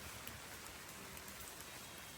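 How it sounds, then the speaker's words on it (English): Steady patter of light rain, a soft continuous hiss of drops falling on surfaces, with no voices. "So it's starting to rain a little bit on us again."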